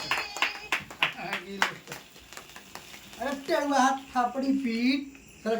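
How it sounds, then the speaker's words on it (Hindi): Family members clap at a wedding anniversary celebration at home, a brisk burst of hand claps in the first few seconds, followed by lively talking and voices over one another. "अरे यार ताली बजाओ लोग"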